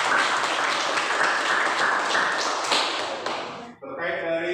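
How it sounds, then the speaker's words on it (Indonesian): Classroom applause, a dense crowd of hands clapping loudly and evenly for a few seconds before trailing off, followed by a voice speaking. "Berikan aplaus."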